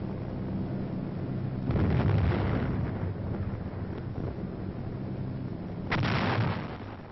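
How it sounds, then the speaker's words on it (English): A heavy artillery barrage in mountain country rumbles as a continuous deep roar of distant explosions, swelling into two louder bursts, with wind buffeting throughout and no voices. "And heavy artillery barrages."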